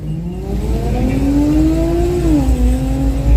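A truck engine revs up at a drag racing event, its pitch climbing steadily then easing back down, loud and close with constant low rumble.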